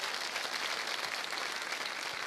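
A church congregation applauds steadily, a dense wash of clapping hands throughout, moderately distant and even in level.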